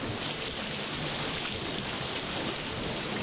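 Steady heavy rain pours down in a thunderstorm over open country in New Mexico, a dense continuous hiss filling the scene with no thunder clap standing out and no voices.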